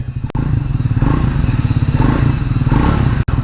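A Triumph Speed 400 motorcycle's exhaust thumps loud and near in a fast, steady run of pulses, with a short sharp click near the start and a brief dip near the end.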